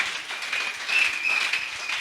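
A church congregation at a wedding celebration applauds in a steady wash of clapping, moderately distant and fairly soft, with no talk over it.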